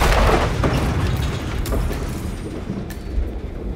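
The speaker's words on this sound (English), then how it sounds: "the explosion alerted the bodyguards" A remote explosive going off in the stealth video game Hitman, a loud booming blast at the start that rolls into a rumbling, noisy decay with scattered debris-like crackles.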